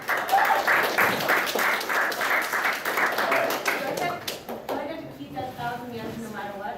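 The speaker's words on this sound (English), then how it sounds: "So give a round of applause" An anime convention audience claps as a contestant steps up for a panel game, a burst of applause that fades after about four seconds, and talking follows.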